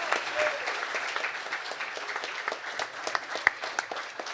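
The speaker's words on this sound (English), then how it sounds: "It's a big round of applause." Audience applause at a hardware badge-hacking prize ceremony, a dense, steady wash of many hands clapping with no voices on top.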